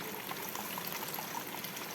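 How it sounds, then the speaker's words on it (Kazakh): Water pours steadily into a stew pot of braised lamb lung soup, poured over a ladle, making a soft, even rushing sound for about two seconds with no talk. "Қазір шамалы деңгейде су құямыз."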